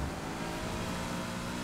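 A car engine revving in the racing video game Need for Speed Heat, a continuous loud mechanical drone with no pauses, filling the whole short stretch.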